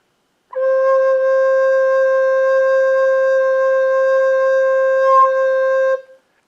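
Recorder holding a gentle low C, one steady pure tone sustained for about five seconds, close and clear, alone with a faint squeak near the end.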